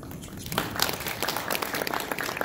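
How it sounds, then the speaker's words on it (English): A theater audience at a hypnosis show breaks into applause, dense clapping rising quickly after a quiet start and holding steady and full. "would you mind please just a real nice round of applause for everyone"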